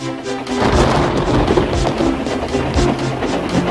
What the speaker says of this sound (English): Wind and rain buffeted Edward.